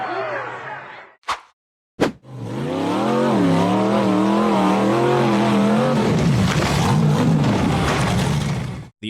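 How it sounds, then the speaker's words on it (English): A blue pickup truck's engine roars as it accelerates across muddy off-road ground, loud and close with rising and falling revs after a few brief cuts at the start. "The blue pickup truck accelerated across a muddy section before launching off a high dirt berm."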